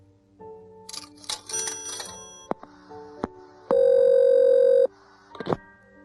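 A telephone gives a sequence of short electronic beeps and clicks, then a single sustained electronic tone lasting about a second, followed by a final brief burst. The sounds are clear and close, with no talking.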